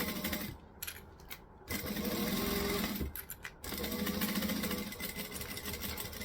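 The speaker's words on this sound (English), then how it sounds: "I can hear the bobbin." A domestic sewing machine stitches a bag in steady mechanical whirring bursts, pausing briefly around the one- and three-second marks before running on, close and fairly loud with no talking.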